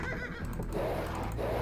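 Horse neighing in the Age of Empires 2 strategy game, a short whinny sitting among a continuous layer of dense in-game battle noise, with no talk over it.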